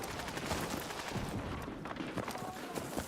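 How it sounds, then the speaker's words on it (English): Rapid gunfire in the Battlefield 6 video game, dense overlapping automatic bursts and distant shots rattling continuously throughout. "I'm being shot from my spawn already."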